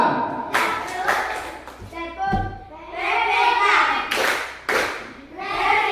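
Classroom group doing the Tepuk TPK clapping chant: bursts of hand claps in rhythm alongside children's chanted voices, with pauses between phrases, close and moderately loud.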